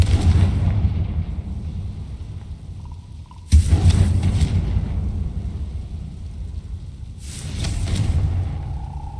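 Two heavy booming blasts from the Confringo fire spell in the video game Hogwarts Legacy, each a sudden loud impact trailing into rumble, over a constant low game background with no speech.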